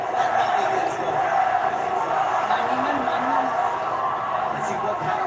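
A large arena crowd at a professional boxing match between Manny Pacquiao and Mario Barrios roars steadily and loudly, a dense continuous swell of cheering throughout, with a commentator talking over it.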